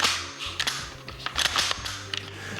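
Function check on a just-reassembled Springfield Armory Hellion rifle, a close series of sharp metallic clicks and clacks from the action and trigger, irregularly spaced over a few seconds.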